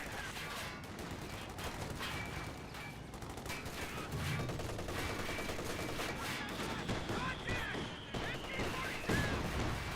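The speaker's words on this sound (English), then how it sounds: "Good mortar hit there on the captain." A mortar shell bursts on an infantry captain in Company of Heroes 2, a low thump rising out of a dense, continuous din of rattling small-arms and machine-gun fire, with scattered sharp cracks throughout.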